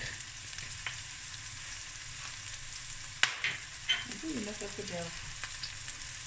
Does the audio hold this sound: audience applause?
no